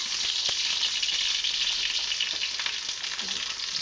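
Chopped onions frying in hot mustard oil, a dense, loud, close sizzle that holds steady throughout with occasional stirring clicks.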